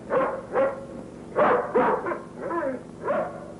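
A dog barks in a short series of about six separate, mid-loud woofs and yips, spaced irregularly against a quiet background.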